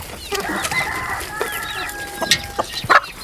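Several chickens cluck and squawk nearby in short, irregular bursts, with a few sharper calls rising toward the end.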